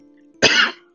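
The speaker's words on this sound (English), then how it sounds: "Sorry for the coughing." A single harsh cough bursts out close to the microphone over a steady background tone, lasting about half a second before trailing off.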